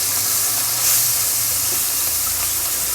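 Small market fish frying in a pan, a loud close hiss of spitting oil that stays dense and unbroken for a few seconds.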